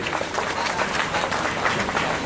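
Audience at a Rashtriya Lok Samta Party gathering clapping to welcome a party official: steady, dense applause from a crowd, continuous and fairly loud throughout with no clear voices over it.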